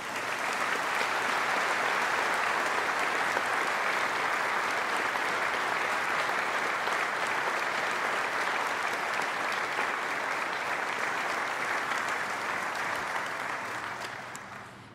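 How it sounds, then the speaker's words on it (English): A graduation ceremony audience at NTU applauds for a sustained stretch, a dense, even roar of clapping that holds steady and then fades out at the end. "Please join me in giving them a round of applause."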